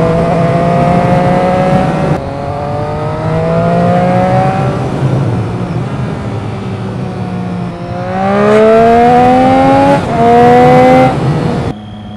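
A small race car engine in a racing video game revs and shifts repeatedly, its pitch climbing and dropping in steady loud sweeps with a brief lull near the end.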